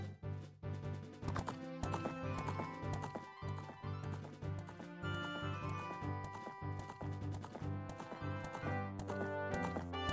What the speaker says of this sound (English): And now we got a horse.